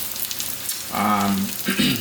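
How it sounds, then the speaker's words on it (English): Blood pudding fries in a hot pan as its fat renders out, giving a close crackling sizzle that swells into louder bursts of spitting with no talking. "the sort of fat and everything else that's in that blood pudding is going to start rendering out"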